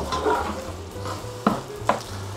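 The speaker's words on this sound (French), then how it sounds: "Je vais rajouter un petit peu d'eau chaude. Voilà, on récupère tous les sucs de cuisson." Hot water poured into a hot pan for a Tunisian tajine malsouka sizzles steadily while the browned bits are deglazed, with a couple of sharp scrapes or knocks from a utensil against the pan.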